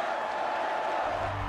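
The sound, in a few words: crowd cheering from a sound library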